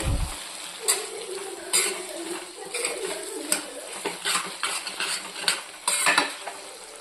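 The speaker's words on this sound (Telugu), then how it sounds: "మధ్య మధ్యలో మాడిపోకుండా కలుపుకున్నాము" Green chilli and tamarind chutney being stirred in a pan to keep it from burning: repeated metal-on-pan clinks and scrapes at an uneven rhythm over a faint sizzle, close and fairly loud.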